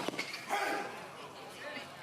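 A pickleball player barks like a dog on court during a competitive match, the short voiced barks imitating a dog, with commentators talking around them.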